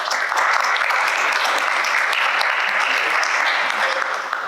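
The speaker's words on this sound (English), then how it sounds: "I'm glad there's a little bit of applause" Sustained applause from a conference audience at a police and technology event, steady dense clapping filling the whole stretch without pause.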